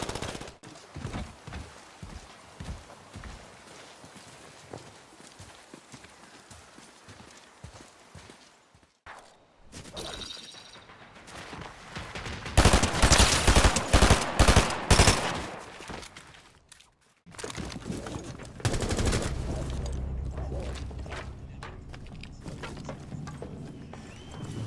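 Gunfire erupts during a video game gunfight, with loud bursts of shots clustered in the middle after a stretch of horse hooves clip-clopping, then continuing game action noise.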